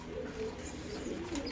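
Pigeons in a loft coo in a low, continuous murmur close by, with light rustling around them.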